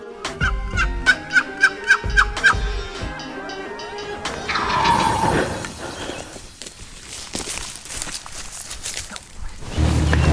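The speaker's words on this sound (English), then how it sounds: "there's a turkey gobbles right on top of them" A wild turkey gobbles in a quick series of sharp, rattling calls close by, followed by rustling, thumps and movement noise with no speech.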